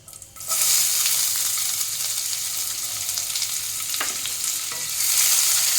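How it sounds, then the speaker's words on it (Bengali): Chopped onion and black cumin frying in oil for a Bengali fish roe curry, a loud, steady bright sizzle that starts abruptly and continues throughout, with a couple of faint stirring knocks. "পেঁয়াজটাকে একটু ভালো করে ভেজে নেব।"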